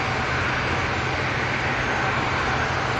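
A Qatar Airways Boeing 777 at Manchester Airport gives off a steady, loud, broadband jet roar with a low rumble beneath, unbroken for the whole stretch and with no voices.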